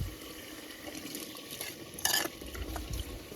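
Shrimp go into a pot and get stirred, a quiet scrape and clatter of utensil against metal with one brief louder rattle midway.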